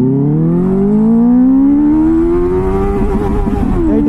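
Royal Enfield Continental GT650 motorcycle accelerating hard in first gear, loud and close, its engine note climbing steadily in pitch for about three seconds before easing slightly near the end.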